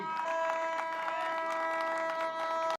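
Applause from an audience at a program launch event, a dense wash of clapping with some crowd noise lasting a few seconds before cutting off abruptly.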